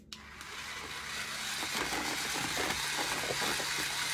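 A kitchen blender whirs steadily, mixing low-sugar peanut butter cup protein pudding, a continuous motor drone close up that starts at once and holds for several seconds with no talking over it.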